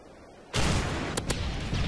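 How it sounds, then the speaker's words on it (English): A predator missile strike in Modern Warfare 3 lands as a sudden loud boom that swells into a sustained rumbling roar, with a couple of sharp cracks inside the blast. "Friendly predator missile inbound."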